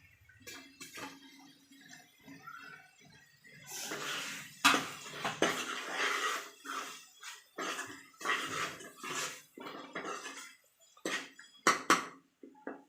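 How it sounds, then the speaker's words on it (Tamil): Chopped tomato tipped into hot oil and curry masala for a chicken curry in a pan, giving bursts of sizzling and spluttering with a few clattering knocks against the pan, close and fairly loud. "இந்த டைமில் வந்து நான் ஒரு தக்காளி கட் பண்ணியிருக்கிறேன், அதை சேர்த்துக்கலாம்."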